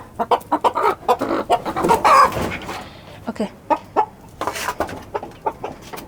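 Hens cluck repeatedly in short, bursty calls close by, with a few louder squawks mixed in and a brief spoken word.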